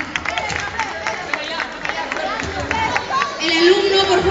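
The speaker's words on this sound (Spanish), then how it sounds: "Fuerte los aplausos, por favor." Applause and cheering from a crowd at a school Teacher's Day event, a steady wash of clapping with scattered individual claps and background chatter throughout, swelling a little toward the end.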